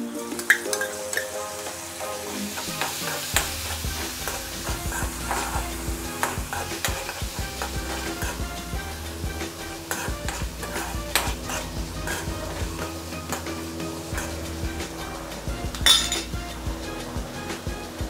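Moong dal and turmeric fry in a pan for methi bhaji, with a soft sizzle under repeated scraping and clinking as a spoon stirs against the metal, close and continuous throughout.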